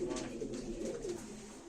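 A Turkish tumbler pigeon coos close by, a soft, low, rolling call running through the whole brief moment.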